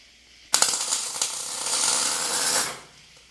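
MIG tack welding on a steel welding cart build, a sudden crackling buzz that starts sharply, sputters, then holds as a steady hissing arc for about two seconds before cutting off, close and fairly loud.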